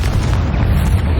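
Confringo fire spell exploding in the Hogwarts Legacy video game, a short, loud, dense low-pitched boom with a rumbling body that fills the whole moment without fading.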